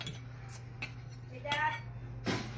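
A knife cuts a small sliver from a cooked medium-rare ribeye steak, giving a few light clinks and scrapes of metal against a plate, quiet and close.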